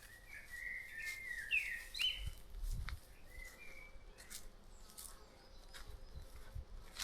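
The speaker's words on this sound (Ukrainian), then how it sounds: "пташечки співають" Birds chirp and trill outdoors at an abandoned farm near Lviv, a few bright whistled calls early on over a quiet, breezy background, with sparse tweets later.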